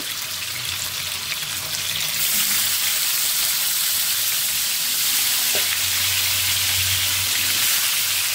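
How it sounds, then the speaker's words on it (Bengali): Fish pieces marinated with turmeric and salt fry in hot oil, making a loud, continuous sizzle close by that rises and fills the clip, with a brief clink partway through. "আমি মাছগুলো আমার ধুয়ে হলুদ লবণ দিয়ে রাখছিল, এখন আমি ভেজে নিচ্ছি"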